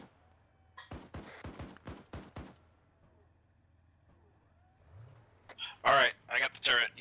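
Rapid bursts of video game gunfire crackle in two clusters, a dense volley early on and louder sharp shots toward the end, separated by a quieter stretch.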